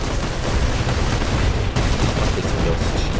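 Robots in the PC game War Robots fire heavy weapons in a loud, dense barrage of rapid overlapping gunshots and blasts.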